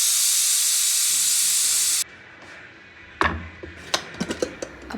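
A pressure cooker cooking lentils for sambar lets out a loud, steady steam whistle for about two seconds, then cuts off; after a short quiet gap come a few sharp clinks and taps nearby.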